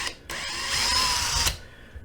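A power drill whirs steadily for just over a second, spinning up and boring a hole for a drywall anchor before cutting off, with quiet room noise around it.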